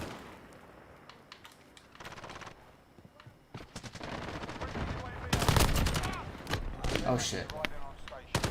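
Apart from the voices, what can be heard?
gunfire from a gun in a video game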